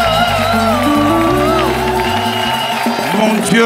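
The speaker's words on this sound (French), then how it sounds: "Quelqu'un peut pousser des cris de joie avec des acclamations pour la gloire de notre Dieu." A church congregation at a Sunday worship service cheers and shouts for joy, a loud sustained wash of voices with sung or held tones running under the crowd noise throughout.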